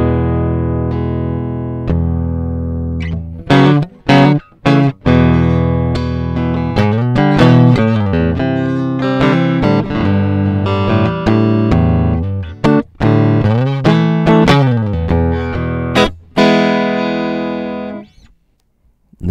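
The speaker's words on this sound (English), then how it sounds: "This is the neck pickup." An electric guitar played on its neck pickup through distortion and effects rings out a sequence of sustained notes and chords, loud and up close, with short pauses between phrases and no voices.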